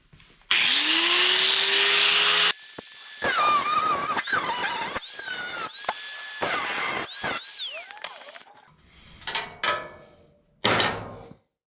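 A power tool cuts metal on a K5 Blazer, giving a loud, steady grinding whine for a couple of seconds, followed by ringing metallic clanks, scrapes and a few sharp knocks spaced out.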